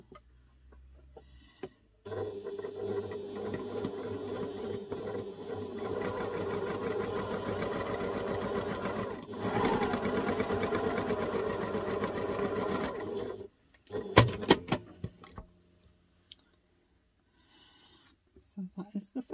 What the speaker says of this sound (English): And we're just going to get sewing.